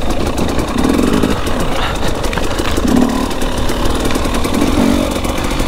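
Enduro motorcycle engine idling, a loud, steady, slightly uneven idle with low pulses recurring about every two seconds and no talking.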